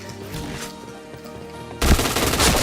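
Video-game gunfire scoring headshots: a quiet stretch breaks into a loud, dense, continuous burst of rapid shots.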